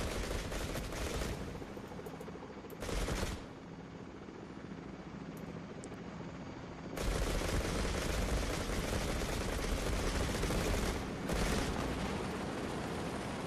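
Repeated mortar and heavy weapon fire in the zombie strategy game Cepheus Protocol, a dense, continuous roar of blasts and gunfire with louder bursts near the start and a sustained heavier barrage in the second half.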